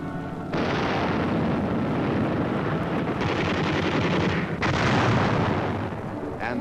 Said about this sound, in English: And heavy artillery barrages.